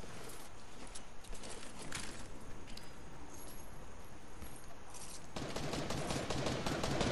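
Gunfire in a Fortnite duos match crackles throughout as a steady run of shots and bursts, distant and muffled, with the clatter growing louder and denser near the end.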